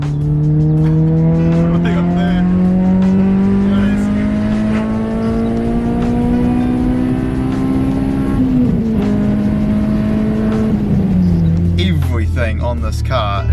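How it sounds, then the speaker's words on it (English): Worn, badly neglected Honda Accord Euro R being driven, its engine droning steadily as revs climb slowly through a gear, then easing off and dropping near the end, heard from inside the car with road noise and some rattles. "Oh, this is the worst Honda I have ever driven."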